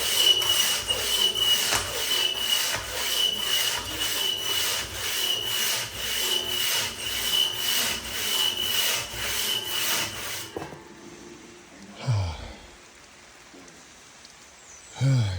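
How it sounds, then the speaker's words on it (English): A steady, rough rasping of a worn knot cutter grinding into walnut wood for about ten seconds, then it stops, leaving quiet with a couple of brief thumps. "So I'm using knot cutter on this again because it's kind of rough."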